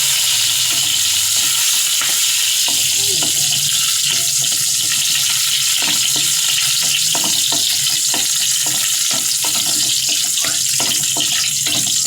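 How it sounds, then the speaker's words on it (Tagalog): Onion sizzles and crackles steadily in hot oil, a dense continuous frying hiss with occasional sharper pops, close up and without talk. "Mainit na mantika. Ilagay ang sibuyas."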